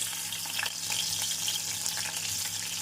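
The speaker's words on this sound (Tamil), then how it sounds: "எண்ணெய் சூடானதும் பன்னீரை சேர்த்து விடலாம்" Paneer cubes fry in hot oil in a kadai over a medium flame, giving a continuous, soft crackling sizzle with small bursts of popping and no talk.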